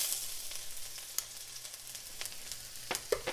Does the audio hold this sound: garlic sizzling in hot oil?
yes